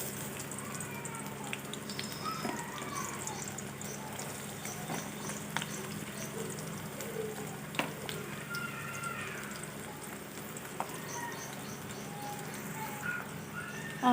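Onions sizzling in hot oil in a pan for a radish fry, a steady crackling frying hiss with occasional pops and small stirring clicks, close and continuous with no talk.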